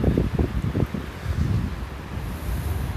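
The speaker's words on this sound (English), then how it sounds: "So it's really slushy and windy and blizzardy" Blizzard wind on a Denver street in March, a steady low roar with gusty buffeting against the microphone, louder bursts early on and no talking.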